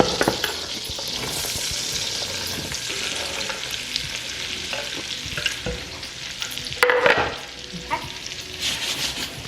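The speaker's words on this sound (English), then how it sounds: "that's sizzling. That's a sizzle" Chicken pieces sizzle and fry in a pan, a loud continuous crackling hiss with occasional stirring scrapes and a louder burst midway; a voice speaks once briefly.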